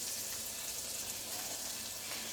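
Butter sizzling in a Power XL StirMax multi-cooker while making savory beef stew, a soft, continuous hiss of frying fat heard close and steady throughout.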